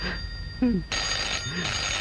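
A telephone rings with an electronic, bell-like tone in bursts, close and loud, while a voice briefly speaks between the rings.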